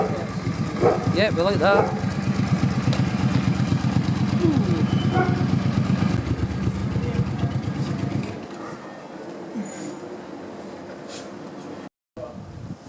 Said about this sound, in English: It's a cool bike, isn't it?